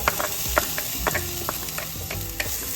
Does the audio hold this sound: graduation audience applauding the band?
no